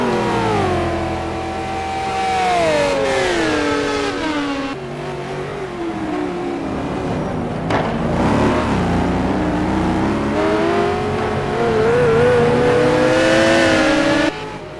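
GT1 race cars battling closely for the lead in a qualifying race at the Nürburgring, their engines revving loud and close with rising and falling pitch as they shift gears and pass.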